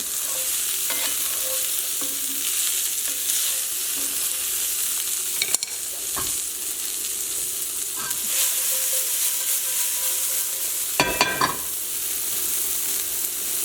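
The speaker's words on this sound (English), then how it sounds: "We're going to cook and stir for about 30 seconds to a minute." Ingredients for chicken meatballs with fregola sarda and kale sizzle steadily in a hot pan, with periodic utensil scrapes and clanks as everything is stirred and tossed.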